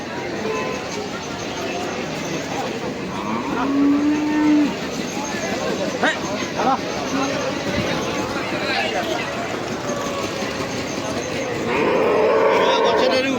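At Jagraon's cattle market, one brief, low moo rises over a constant hubbub of crowd chatter, nearby voices and general livestock-yard noise.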